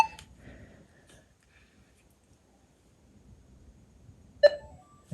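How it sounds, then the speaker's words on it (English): A metal detector beeps as it boots up, giving one short electronic chirp at the start and another sharp beep near the end, with quiet wind noise between. "I'll turn the detector on. Okay, so that'll boot up."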